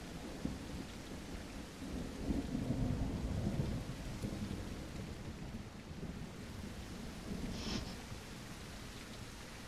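Steady rain with rolling thunder in the Unreal Engine 5 game Futureport '82, a continuous wash of rainfall with low rumbles swelling midway and a faint crack later, no voices.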